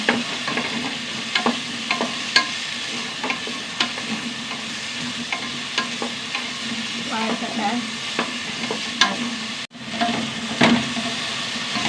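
Vegetables sauté in a hot pan with steady sizzling and repeated stirring scrapes and clicks, close and continuous, for a Kerala sadya side dish with soaked potatoes and green peas.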